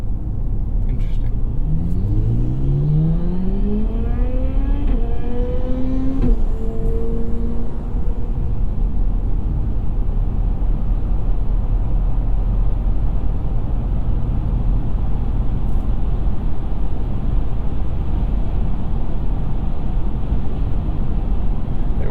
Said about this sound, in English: full speed on the highway, and in this concrete section, you can hear the tires